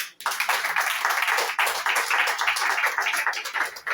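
A church congregation at an evangelical sermon claps and applauds: dense, continuous, loud hand-clapping with a steady, slightly pulsing rhythm that fills the whole moment.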